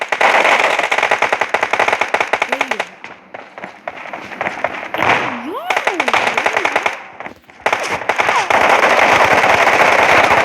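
Rapid automatic gunfire from PUBG Mobile team deathmatch rattles loudly in long sustained bursts, pausing briefly in the middle before resuming, with in-game voice callouts and a player talking over it.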